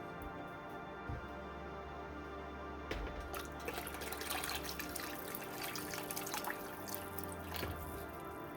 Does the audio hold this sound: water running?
yes